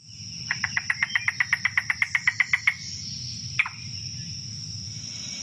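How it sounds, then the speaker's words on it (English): Yellow-billed cuckoo giving a rapid series of about twenty hollow, evenly spaced clucking notes, then one sharper call after a pause, over a steady insect-like hum outdoors. "here's how the yellow-billed cuckoo sounds."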